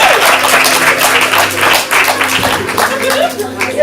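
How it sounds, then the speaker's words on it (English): An audience at a ComedySportz Portland improv comedy show applauds, a dense, loud wash of clapping with voices mixed in underneath. "Give yourself a round of applause."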